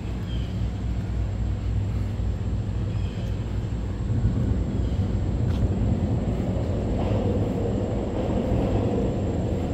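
Subway train rumbling underground beneath Central Park West near 72nd Street in New York, a steady deep low roar swelling slightly midway, heard from street level with no talking.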